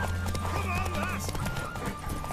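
A horse in The Witcher 3 neighs and clip-clops at a run, the whinny rising over steady hoofbeats and a low game soundscape.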